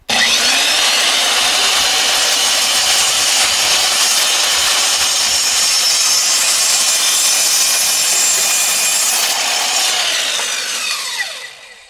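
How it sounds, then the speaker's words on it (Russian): A Zubr Master miter saw cutting through a 20 mm wooden board, a loud continuous high-pitched whine of blade biting wood for about ten seconds before the motor winds down. "Так, пытаемся двадцатку пилить."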